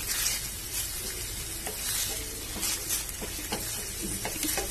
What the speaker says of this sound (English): Now I'm adding paneer.